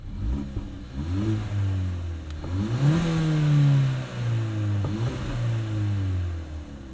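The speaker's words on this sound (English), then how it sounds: "You can hear the exhaust." A 2019 Hyundai Elantra GT N Line exhaust revving up and settling back down, several throttle blips rising and falling in pitch, close and fairly loud with no talking.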